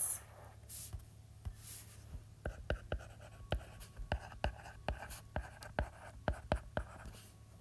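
A pen draws two secant lines across a circle diagram on paper during a math notes lesson: a run of quick, close, scratchy strokes and taps, with steady rhythm and no talking.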